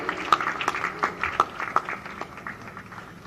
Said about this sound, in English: Please give a big round of applause, ladies and gentlemen.